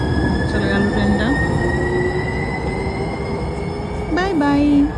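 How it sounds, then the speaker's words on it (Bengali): At night a train pulls out of a station: a loud, continuous rumble of wheels and carriages close by, with tonal squeals and a rising whine near the end, as a voice speaks over it. "এখন ট্রেনটা চলে যাচ্ছে, চলে গেল ট্রেনটা।"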